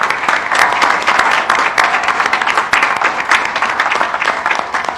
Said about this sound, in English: So a big round of applause for everybody.